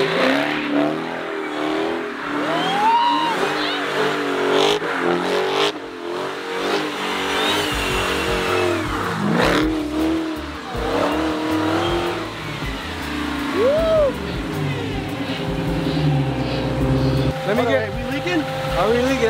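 A Dodge Hellcat engine revs hard during a test burnout, with loud rising and falling roars, tire noise and sustained high-revving drone, and a voice speaks briefly over it.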